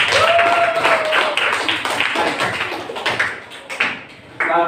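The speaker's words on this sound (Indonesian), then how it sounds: "kita beri aplaus dulu untuk kelompok." A classroom group of students claps together in applause during a physics lesson, a dense, steady patter of many hands that slowly thins out toward the end.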